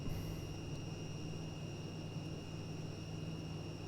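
Steady drone of a Tu-134A-3's jet engines in the Prepar3D flight simulator, a broad even roar with a high whine on top that holds at a constant level throughout.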